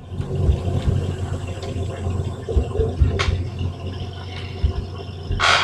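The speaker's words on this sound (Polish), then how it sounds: "jadę najsilniejszym ciągnikiem z gospodarstwa, czyli Casey'kiem" A Case tractor engine runs steadily as the tractor drives, a low continuous rumble with a few knocks and clatters, close and fairly loud, with no voices over it.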